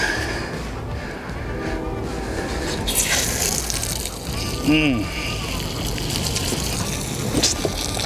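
Water gushes and splashes steadily from an RV's hot and cold low point drains with a broad hissing rush, close by, while voices talk over it throughout.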